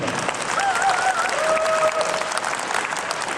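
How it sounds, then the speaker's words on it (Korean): Steady applause from a crowd, many hands clapping together at an even level for several seconds. "큰 박수 한번 부탁드립니다"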